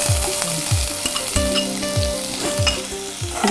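Onions sizzle loudly in hot oil in a pan, a steady close frying hiss with occasional stirring scrapes and clinks, no talking.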